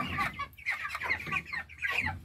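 Chickens on a farm in St. Elizabeth, Jamaica cluck in short, repeated bursts, several birds close by, their clucks overlapping in an uneven rhythm with no talking.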